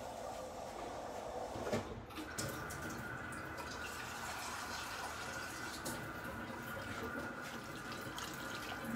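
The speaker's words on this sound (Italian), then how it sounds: "Ecco, io ci aggiungo un goccettino d'acqua adesso." Water from a tap runs steadily as a little is added to a pot of ragù in a home kitchen, a continuous close splashing hiss with a brief clatter near the start and no talk.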